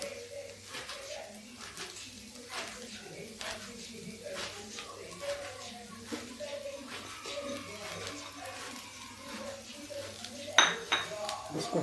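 Ground masala being stirred into okra in a pan, with clinks and scrapes of a spoon against cookware repeating throughout, moderately close, and a brief louder clatter near the end.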